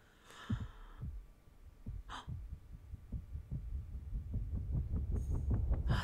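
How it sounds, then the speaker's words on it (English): A heartbeat thumps in the video game Call of Duty: Modern Warfare 3, starting with a few spaced beats and speeding into a fast, loud, steady pounding, with brief breathy gasps over it. "I thought that was a heartbeat."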